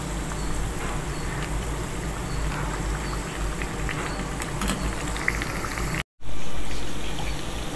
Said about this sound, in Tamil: வடை பாருங்கள், சூப்பராக பொன்னிறமாக பொரிஞ்சு வருது